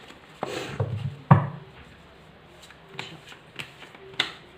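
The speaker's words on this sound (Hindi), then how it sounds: "थोड़ा सा शफल कर लूँ, काफ़ी पहले भी मैं शफल कर चुकी हूँ।" Tarot cards being shuffled by hand, a few soft riffling swishes and light taps up close, with quiet pauses between them.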